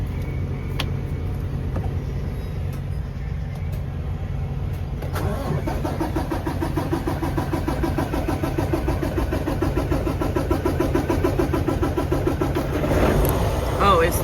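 A truck engine cranks with a few short attempts, then catches and settles into a steady, close idle that swells slightly near the end, with someone talking over it.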